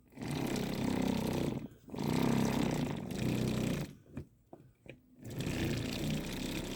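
An electric paint mixer shaking a bottle of paint loaded with ball bearings, loud buzzing rattling bursts that run for a couple of seconds each, with short pauses and quiet handling between runs.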